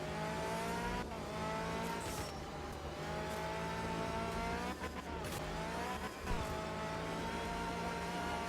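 Race car engine droning steadily throughout a race lap, with rising and falling revs as it eases off and coasts into turns instead of running flat out, loud and close, no talk.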